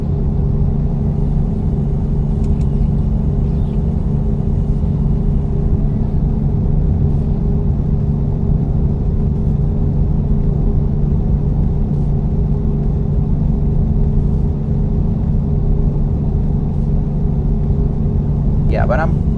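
Steady low engine rumble of a Nissan X-Trail in a driving simulator game, droning evenly at a constant pitch with little variation for the whole stretch.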